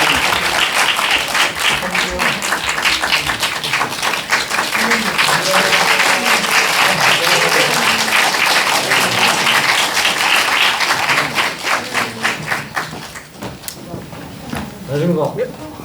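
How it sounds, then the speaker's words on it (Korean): Loud, sustained audience applause fills a Q&A event for the Thai shamanism horror film The Medium, greeting its producer; dense clapping continues throughout, thinning slightly near the end, with some speech mixed in. "큰 박수로 맞이해 주십시오."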